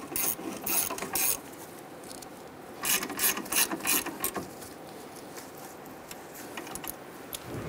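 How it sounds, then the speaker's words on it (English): A hand ratchet snugs down the brake caliper bracket bolts on a 1994-2004 Ford Mustang, with bursts of rapid clicking separated by short pauses, heard close with no talking. "let's go ahead and snug them down"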